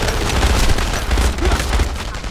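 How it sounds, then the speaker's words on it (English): Gunfire in the World War II shooter game Enemy Front comes as a loud, dense rattle of rapid shots and booms, continuous across the whole moment with a brief dip midway. "Now I'm firing and dying."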